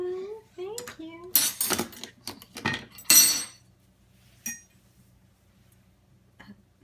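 Forks and spoons clinking as a dishwasher is unloaded, a cluster of sharp close metallic clatters and clinks, then a single later clink, with a voice speaking near the start.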